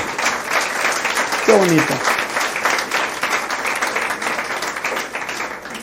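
A church congregation claps in worship, a dense, steady round of applause that fills the room while a voice speaks briefly over it.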